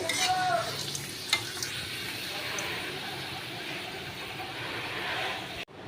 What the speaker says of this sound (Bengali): আর কটা ভাজবো ডালের সাথে পাপড় খেতে ভালোই লাগে